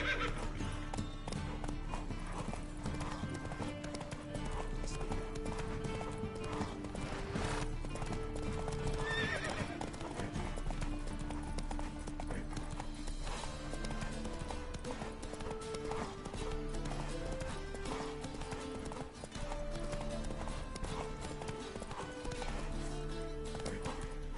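Horse hooves pounding in a steady galloping clip-clop as Roach runs in a video game, loud and continuous over a bed of game music, with a whinny along the way.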